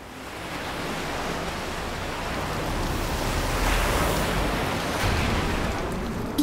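A rushing torrent of the river Ganga is staged as a sound effect for a mythological TV drama: a dense, continuous roar of water that swells slightly midway and stays loud throughout.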